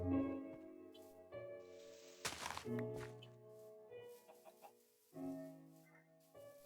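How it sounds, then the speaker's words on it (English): Chickens cluck in a farming video game, short harmonic calls repeating in bursts at a close, moderate level, with a brief noisy thump partway through. "We have plenty of chickens running around."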